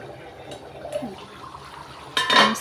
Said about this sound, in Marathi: याच्यात आपण आता थोडंसं पाणी टाकणार आहे.